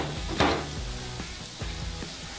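Tomatoes sizzling and crackling on a hot Blackstone griddle as water is added, with a sharp hiss and a few clinks of a utensil against the griddle.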